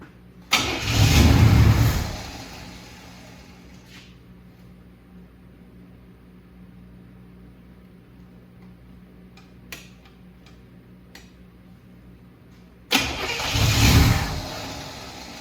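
A Chevrolet Monte Carlo SS, first started in over ten years, cranks and catches with a loud rumbling start, drops to a quiet rough idle with faint ticking, then is started again with another loud burst of engine noise.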